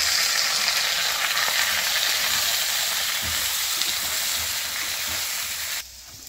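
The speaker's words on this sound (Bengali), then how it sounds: "আলু দিয়ে আগে ভাজতেছি" Potatoes and eggplant fry in a pan with a loud, steady hiss and sizzle that holds for several seconds, then drops sharply in level at the very end.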